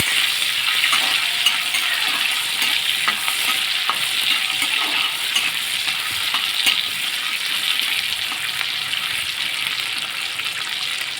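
Pre-fried crabs added to gourd in a pan fry with a dense, bright, continuous sizzle and occasional light clinks of stirring, close up and steady throughout, with no talking.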